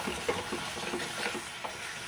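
Soft tomato masala for paneer kurma is stirred in a pan with a low simmering sizzle, the spoon scraping and clicking against the pan in several scattered strokes, with no talking.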